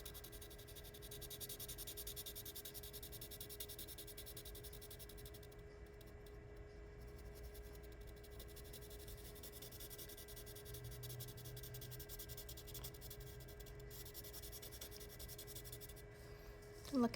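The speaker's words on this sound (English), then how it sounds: "I'm cross hatching, so I'm gonna switch the direction of my pencil" A pencil scratches and rubs steadily across paper in cross-hatching strokes while a sphere is shaded, a soft, continuous close-up texture over a faint electrical hum.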